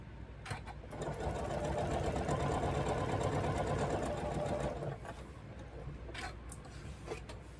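A sewing machine stitches corner to corner across small green quilt squares for ornaments, a close, continuous mechanical whir for about four seconds, followed by quieter handling noises and faint clicks.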